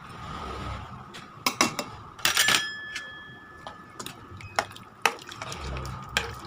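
A spoon stirring sambar for sambar rice in a cooking pot, with scattered metallic clinks and scrapes against the pot over a low background hiss, close and without talk.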